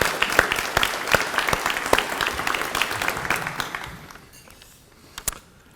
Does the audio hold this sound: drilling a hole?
no